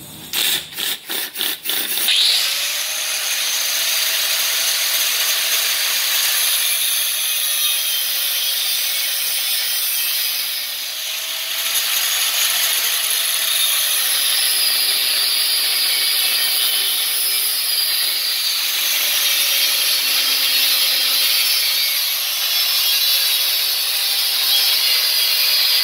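A power saw cuts steadily into a hydraulic cylinder, a loud continuous grinding whine that runs for most of the stretch. A few sharp start-up bursts come at the beginning, and the pitch dips and shifts slightly along the way.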